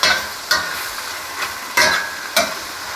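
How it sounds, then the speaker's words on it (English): Shrimp sizzle steadily in a hot pan, with four sharp scraping, stirring bursts as they are tossed. It is close and moderately loud, and nobody speaks. "our shrimp are starting to brown up. I'll give them a quick little toss."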